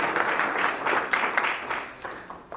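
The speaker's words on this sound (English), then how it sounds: "Resounding applause." An audience gives a short round of applause after a presentation on a bionutrient meter lab report, the dense clapping thinning out toward the end.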